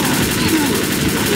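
Pistol gunfire in the video game Left 4 Dead, a steady stream of rapid shots forming a dense, continuous crackle at even loudness across the short moment.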